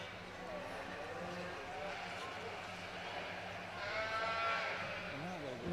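Sheep bleating in the show ring at the 2020 Aksarben Stock Show, a livestock show, with a few wavering calls near the end under an announcer's continuous commentary.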